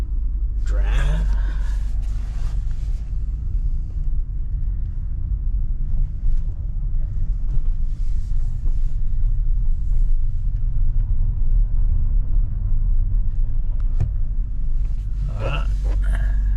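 A 2025 Honda Odyssey minivan driving down the road, with a low steady engine and road rumble heard from inside the cabin, plus occasional clicks and brief rustles.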